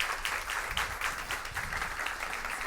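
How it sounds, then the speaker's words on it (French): A school audience applauds steadily, many hands clapping in a dense, even patter throughout. "Et à vous, public, je demande de les applaudir."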